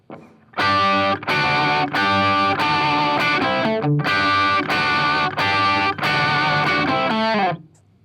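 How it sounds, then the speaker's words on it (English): Heavily distorted electric guitar playing a short lead riff in repeated bursts with brief gaps, loud and close, ringing out at the end. "This is our first little bit of lead guitar."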